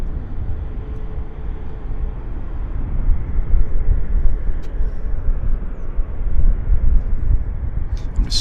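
An airliner taxiing at Vancouver Airport, a loud, steady low engine rumble and roar that swells slightly midway, heard from nearby outdoors with no talking.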